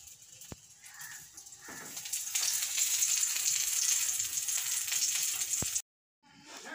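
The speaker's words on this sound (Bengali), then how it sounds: "এই যে বেগুন ভাজা হচ্ছে" Eggplant fries in a pan with a steady close sizzle that builds and holds, then cuts off abruptly near the end before faint noise returns.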